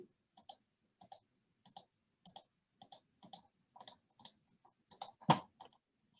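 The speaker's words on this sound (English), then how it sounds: "So many mouse clicks." Computer mouse clicking at a desk, a quick series of crisp, quiet paired clicks in a steady rhythm, ending with one louder knock, heard alone.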